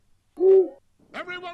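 An owl plush toy gives two short hooting sounds when struck, a clear tonal hoot followed by a second rougher, buzzier call, loud and close in a quiet room.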